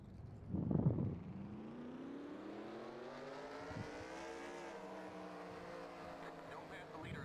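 Race car engines in the NASCAR Racing 2003 video game roar and rise in pitch together at a start, a brief loud burst near the beginning and then a steady climbing drone with shifting harmonics.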